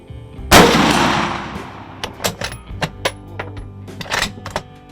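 A single loud rifle gunshot fired at a target 100 yards away, a sharp blast with a decaying echo, followed by quieter scattered clicks and handling knocks.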